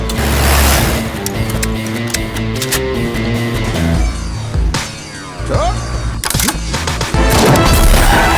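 Loud explosions and crashing booms in a Hindi-dubbed action movie burst repeatedly over a dense, dramatic music score.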